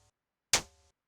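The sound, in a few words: dirty noisy clap synthesized on Yamaha Reface CS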